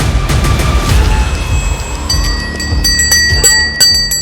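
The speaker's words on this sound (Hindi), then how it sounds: "साध्वी ने घंटी बजाई" Ritual bell rung by a sadhvi during an invocation in the Himalayas, several bright ringing strikes with long shimmering overtones, close and alone, no talking.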